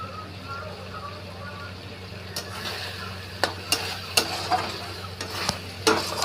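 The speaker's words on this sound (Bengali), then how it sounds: "কষতে হবে ভালো করে, নাহলে কাঁচা রসুনের গন্ধ ছাড়বে।" Taro greens (kachu shak) and garlic being stir-fried in a pan, with a low steady sizzle broken by sharp scraping clicks from a spatula, several of them toward the end, while a voice talks over it.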